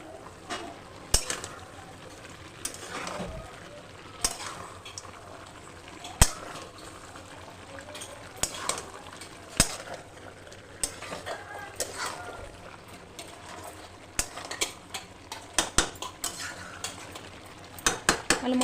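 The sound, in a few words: stirring country chicken curry in a pot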